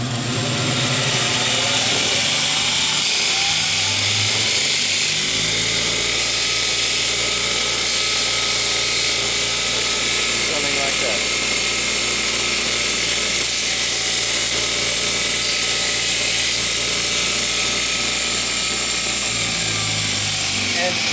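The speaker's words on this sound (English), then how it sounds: "So just take it over the grinder and just a very light grind." Bench grinder lightly beveling the edges of metal weld-in inserts, a loud continuous whine and grinding roar throughout, steady and close, with a low hum beneath.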